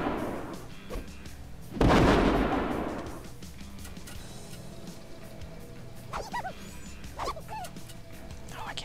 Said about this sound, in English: now comes the fun part, dodging all the missiles.